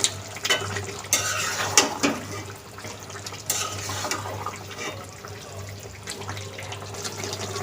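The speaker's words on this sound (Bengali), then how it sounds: "ঢাকনা খুলে নাড়া দিয়ে দিব।" A utensil stirs country chicken curry with spices in a cooking pot, giving irregular close scrapes and clinks against the metal over a steady background hum.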